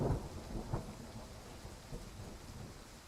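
Rain and thunder in a hunting video game: a low rumble of thunder rolls in over a steady hiss of rainfall, faint and distant, with a couple of deeper swells near the start.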